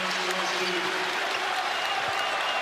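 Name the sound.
basketball crowd cheering after a made free throw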